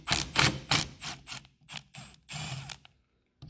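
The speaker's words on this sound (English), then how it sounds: "this is a T50 Torx. And I am using a little battery impact for it." A small cordless battery impact driver hammers loose a T50 Torx bolt during work on a 2001 Cummins 24-valve engine, giving loud rattling bursts of short rapid impacts separated by brief pauses, close up before stopping.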